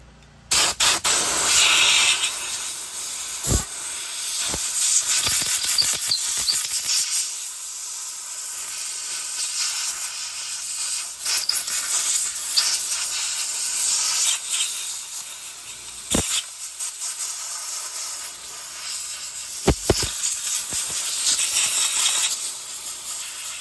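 Compressed air blows dust out of a chainsaw sprocket in a long, loud, close hiss that runs nearly continuously, broken by a few short sharp clicks and brief dips.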